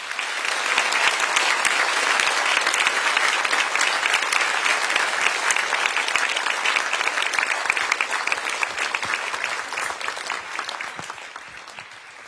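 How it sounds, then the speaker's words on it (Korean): A church congregation applauds as a university president and pastor comes to the stage, with dense, loud, steady clapping from a large crowd that tapers off at the end. "나오실 때에 세우신 하나님께 영광 박수 올리도록 하겠습니다"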